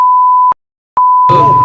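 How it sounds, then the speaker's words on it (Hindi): Censor beeps mask offensive words in a Hindi-Urdu chat about a cricket team, a steady electronic tone sounding loudly in two long bursts split by a short silence, with muffled voices briefly audible under the second. "मैंने यहाँ पे जो बीप लगाई है वो इसलिए लगाई थी"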